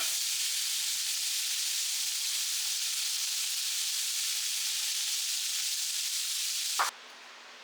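Onion sizzling loudly and steadily in a hot pan for home cooking, a continuous bright frying hiss that cuts off abruptly near the end, leaving only faint background.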